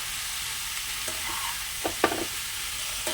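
Taro stolon curry frying in a pan, a soft constant sizzle with a few sharp spoon scrapes and clinks, clustered near the middle and again at the end, with no voices.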